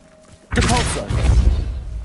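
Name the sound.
Depulso spell cast in Hogwarts Legacy video game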